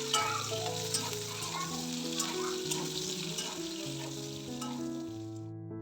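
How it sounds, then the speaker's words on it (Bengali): Brinjal pieces frying in hot oil in a pan, a steady loud sizzle with crackling pops and the scrape of stirring throughout, with no talking over it. "তো সেই তেলের মধ্যে দিয়ে দিলাম একটু বেগুন।"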